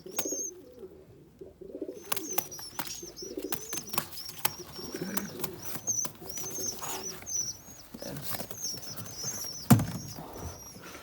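Pigeons on a balcony coo softly and repeatedly, with bursts of wing flapping and shuffling, close by over a quiet background with no talking.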